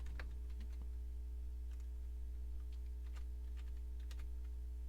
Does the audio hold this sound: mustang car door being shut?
no